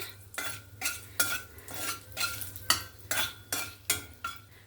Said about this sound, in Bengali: ফোড়নে একটা তেজপাতা আর লবঙ্গ, এলাচ আর দারচিনি ফোড়নে।